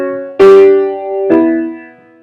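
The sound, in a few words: quartal melody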